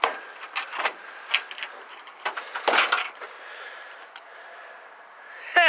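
The trunk of a 1984 Ford Mustang GT350 convertible is opened, with jangling keys, metallic clicks and latch clunks in close, scattered bursts, and a sharp creak at the end.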